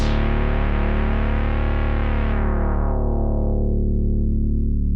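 A sustained, gritty bass note from an MXR bass synth pedal holds steady while its bright overtones gradually sweep darker, as if a filter is closing.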